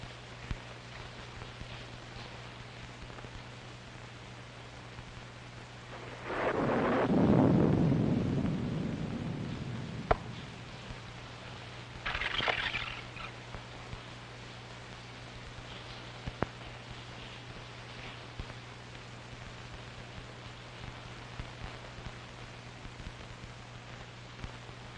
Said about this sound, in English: It's liable to rain all night.